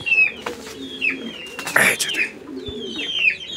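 Pigeons offered at a sale in Bangladesh coo and call close by in short, repeated bursts, with a brief rustle in the middle.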